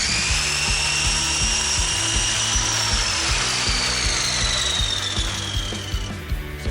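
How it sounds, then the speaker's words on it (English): A power saw making 45-degree cuts through picture frame moulding, a steady loud whining cut with a rising and falling pitch running continuously, no voices. "we're going to go ahead and make our 45-degree cuts. Start off by just cutting off the edge on one side."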